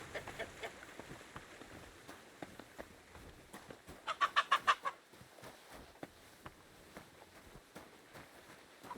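Chicken in the video game Kingdom Come lets out a quick run of four or five clucks midway, standing out over faint repeated ticking footsteps and low ambience.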